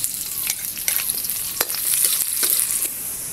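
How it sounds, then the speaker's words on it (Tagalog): Chopped garlic and onion sauté in a hot pan, giving a steady close sizzle with scattered sharp scraping stirs. "Gigisa naman natin yan."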